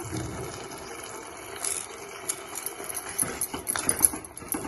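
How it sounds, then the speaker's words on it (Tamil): Tamarind water pours into a pan while a drumstick pulp pickle cooks: a soft, uneven trickling and splashing that builds louder toward the end, with no talk. "புளி கரைச்சலாம் ஊற்றிடலாம்"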